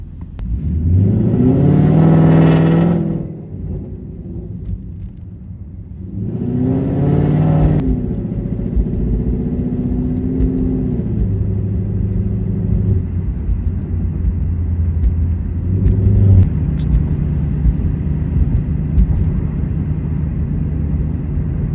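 A car driving on a Connecticut road, its engine swelling loudly twice as it accelerates, then settling into a steady close drone with a faint whine, no talking.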